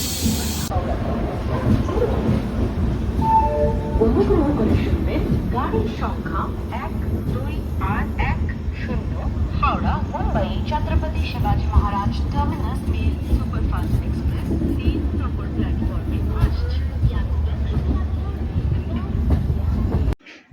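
Shalimar Puri Superfast Express rolling through the night, a steady loud rumble of wheels and carriage noise filling the whole clip, with a voice talking over it.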